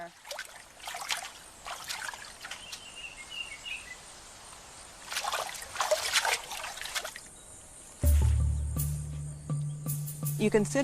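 Chimpanzees bathing in water make steady trickling and light splashing, with insect chirps in the outdoor background; a louder, closer burst of splashing comes in near the end.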